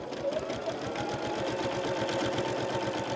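An Allegro sewing machine quilts through layers with a walking foot, giving a steady, close, rapid rhythmic chatter of stitching that runs continuously without pause.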